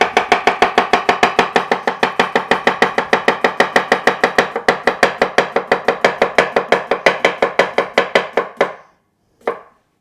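A knife slices a cucumber in a fast, steady run of close, crisp cuts, dozens of even strokes that stop abruptly, then one last cut after a short pause.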